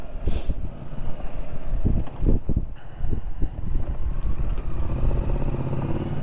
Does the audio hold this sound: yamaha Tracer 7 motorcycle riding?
yes